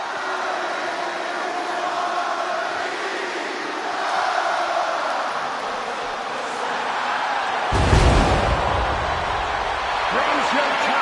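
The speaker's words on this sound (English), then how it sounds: "Just listen to this ovation for the Second City Saint." Arena crowd ovation in the WWE 2K26 wrestling video game for CM Punk before his hometown Chicago audience, a steady dense roar of cheering throughout that swells louder near the end with a sharp burst, under commentary voices.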